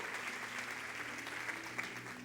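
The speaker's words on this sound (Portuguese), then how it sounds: "Você pode aplaudir ao Senhor?" Congregation applauding in church during a Purim sermon, a steady wash of many hands clapping at moderate, fairly distant level throughout, with no voices standing out.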